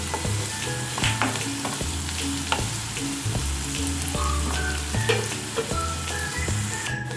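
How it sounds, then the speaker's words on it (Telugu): Onions fry in a pan toward golden brown, giving a constant close sizzle broken by repeated scraping and knocking of a spoon against the pan as they are stirred, with no voices. "ఆనియన్స్ బాగా గోల్డెన్ బ్రౌన్ కలర్ వచ్చేంత వరకు మగ్గుతూ ఉండాలి"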